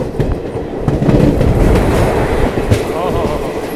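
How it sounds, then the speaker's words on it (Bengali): A train passes slowly nearby on the Nabadwip Dham to Balurghat line near the Ganga. A loud, heavy rumble rolls on continuously with rhythmic wheel clatter and a brief squeal. "কি সুন্দর পাসিং, একেবারে ধিমি গতিতে পাসিং হচ্ছে।"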